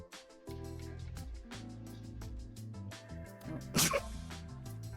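A single sharp sneeze bursts out briefly over a steady backdrop of video game music, standing out as the loudest moment before the music carries on.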